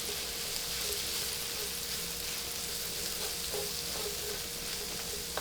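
Baby bellas, shiitakes and oyster mushrooms sizzle steadily in a skillet of bacon grease and butter, a close, continuous crackling hiss with faint stirring clinks and no talking, in a low country shrimp and grits kitchen.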